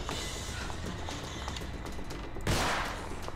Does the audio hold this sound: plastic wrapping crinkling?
no